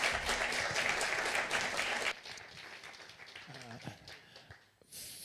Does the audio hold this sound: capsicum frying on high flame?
no